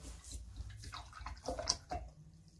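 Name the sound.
paintbrush rinsed in dirty water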